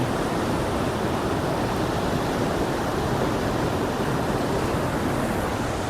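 River current at the Jhalong picnic spot, a steady broadband rush of flowing water that continues without a break, loud and close with no voices.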